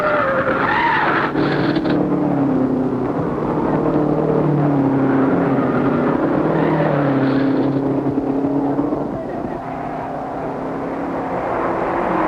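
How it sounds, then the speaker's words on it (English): Tires screech loudly as a race car skids and spins at the Indianapolis 500 at Indianapolis Motor Speedway, its engine roaring steadily throughout, with a slightly muffled, old-recording quality. "While Wallard and Linden battle, Offenhauser spins"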